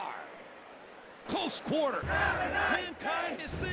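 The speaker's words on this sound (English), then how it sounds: "the crowd are booing me because I kept using kicks" Arena crowd in the WWF Warzone wrestling video game booing a Stone Cold Steve Austin match, rising suddenly and swelling into a loud sustained jeer with shouted voices and dips in between.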